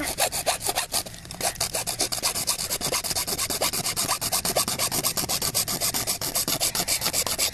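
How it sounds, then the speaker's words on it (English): Rapid rhythmic sawing, a drywall saw rasping back and forth through a plastic toy blaster part in quick, even strokes, close and continuous. "I'm using a drywall saw. That's really a drywall saw."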